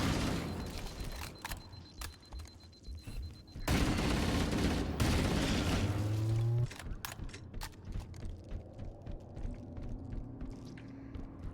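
Rapid plasma rifle fire in the shooter game Halo: Combat Evolved, loud bursts of repeated energy shots with impacts and game effects, dense around the middle then breaking into scattered shots.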